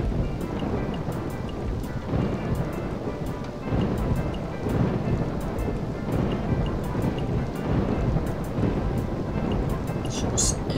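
Steady rain with low rumbling thunder rolls in a RollerCoaster Tycoon 3 theme park, a dense continuous wash of noise with brief brighter crackles, holding at an even level throughout.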